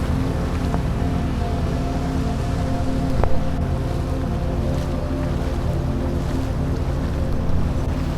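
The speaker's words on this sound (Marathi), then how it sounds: "इकडचा खूप पूर आहे" Flood water rushing through a ghat after a landslide, a loud, dense, continuous roar with low rumble throughout and a few faint knocks.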